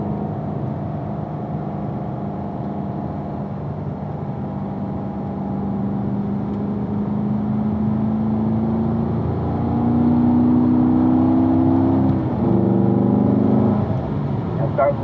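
A sports car on a racetrack at steady light throttle during a performance driving school session gives a sustained, even engine drone with slowly rising pitch, loud and close from inside the cabin.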